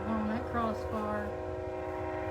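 A nearby train passing on railroad tracks sounds its horn loudly, with sustained chord-like tones and wavering pitch over a constant rumbling background, the blast continuing throughout.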